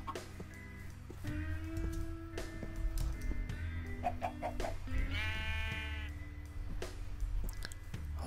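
A sheep bleats once in Minecraft amid soft clicks and a low background hum, the call fairly close and brief.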